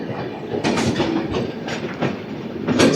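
The Secunderabad AC Superfast Express 12783 runs through Dwarapudi railway station, its wheels clattering in a loud, rhythmic clickety-clack close by, with a rushing rumble beneath the repeated beats.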